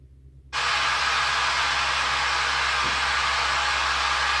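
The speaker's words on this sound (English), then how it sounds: "White noise." Constant hissing white noise from a baby monitor switches on abruptly after a brief quiet moment, then holds steady and loud without variation.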